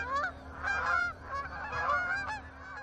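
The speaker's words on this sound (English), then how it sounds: "Geese been coming in, we watched them grow from about 40 to over 500 plus." Geese honking over a cut cornfield, many overlapping calls from a flock at moderate distance, rising and falling continuously with a low steady hum underneath.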